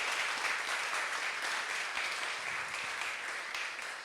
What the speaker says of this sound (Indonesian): mungkin boleh dong tepuk tangannya